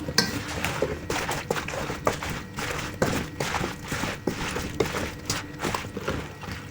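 Repeated wet clinks and scrapes of a utensil against a pot as courgettes in thick tomato sauce are stirred, in an uneven rhythm.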